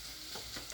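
Beans frying in a pan give off a soft, continuous sizzle with faint stirring scrapes, heard alone at low level for a brief moment.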